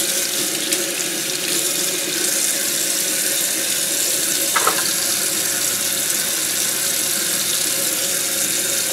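Tap water runs steadily into a sink as tie-dyed fabric is rinsed, a continuous close hiss with a brief squeak partway through.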